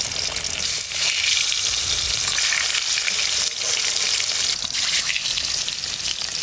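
Sea fish pieces, from a 4 kg fish, frying in hot oil, a loud continuous sizzle and crackle with brief bursts of stirring, close up and with no talk.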